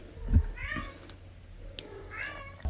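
A cat meows twice, soft and nearby, with a pause between calls and a faint thump early on in an otherwise quiet room.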